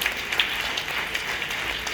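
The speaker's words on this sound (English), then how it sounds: "Give yourself a round of applause." Audience applauding at an event where Virginia state delegates speak on women's security, a steady, slightly distant patter of many hands that stays even for the whole stretch.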